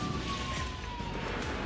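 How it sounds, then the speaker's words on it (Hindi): An alert siren wails at the Russian port of Novorossiysk during an attack, sounding as a faint, slowly falling tone over a dense rush of background noise. "रात भी अलर्ट सायरन बजते रहे।"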